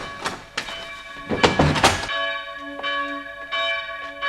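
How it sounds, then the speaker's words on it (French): Church bells rung inside a temple: a few heavy clanks and thuds at first, then clear, sustained metallic tones ringing out and overlapping as they fade. "Quelqu'un est entré dans le temple et sonne les cloches."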